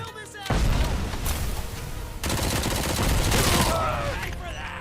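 Gunfire in the Robocop Rogue City video game: dense, loud bursts of rapid shots and booming impacts filling the clip, with shouted voices mixed in.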